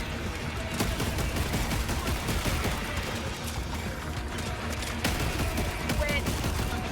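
Sustained machine gun fire in the video game Helldivers 2, a dense rapid rattle of shots over several seconds, loud and continuous with brief uneven gaps and some muffled voice beneath.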